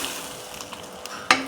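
Frying Bengali watermelon curry with fish heads sizzling steadily in a pan, a faint hiss under light stirring, then a sharp louder burst as a small splash of water hits the hot oil near the end.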